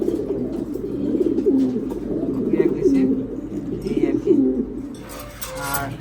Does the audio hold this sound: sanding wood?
no